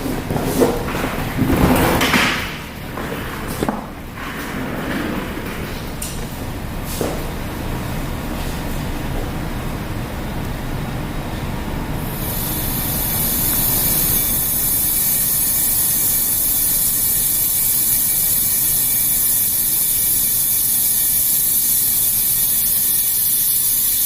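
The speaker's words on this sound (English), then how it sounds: "So we'll start by increasing the pressure inside the wind tunnel." A supersonic wind tunnel in a lab is pressurized: after a few clunks and rattles, a loud, steady hiss of rushing air builds and holds for the rest of the stretch.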